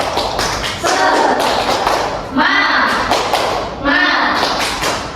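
Third-grade class in a microteaching lesson doing the rhythmic 'tepuk semangat' clap, two loud bursts of patterned hand claps with voices chanting together, close in a classroom.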